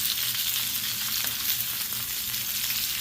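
Thin zucchini slices frying in oil, a steady close hiss and sizzle that holds evenly throughout with no voices.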